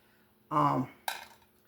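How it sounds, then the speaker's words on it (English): Metal kitchen tongs picked up and handled while cooking baked macaroni and cheese, giving two short close clanks about half a second apart, the first fuller and the second brighter. "Let me get my tongs."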